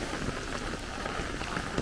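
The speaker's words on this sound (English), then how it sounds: "I knew at some point we were going to get this rain." Heavy downpour during a Brooklyn thunderstorm squall line, a dense, steady roar of rain hitting surfaces, continuous and close with no voices.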